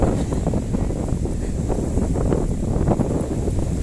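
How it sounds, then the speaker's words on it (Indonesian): Wind at Pinrang beach buffeting the microphone, a steady low rumbling roar with gusty fluctuations and no talking. "Angin."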